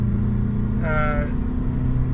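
A car with a Tiptronic six-speed transmission pulls forward under throttle, its engine a steady low drone with a brief rising whine, while someone talks inside the cabin.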